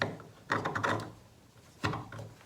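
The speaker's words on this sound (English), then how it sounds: "Then I'll clamp that piece on." Clamp being tightened onto a wooden piece at a worktable, giving two bursts of close mechanical clicking and ratcheting, a longer one followed by a brief second one.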